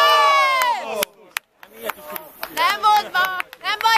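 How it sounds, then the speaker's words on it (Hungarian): Spectators erupt in a roaring crowd swell at a youth boys' water polo tournament game, heard alongside loud, close shouting voices and brief bursts of noise. "Fölzúdult a tömeg!"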